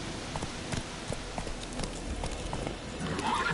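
The horse Roach in The Witcher 3 video game, steady clip-clop hooves moving at a walk with a whinny, set over soft rain-like ambience, with no talk.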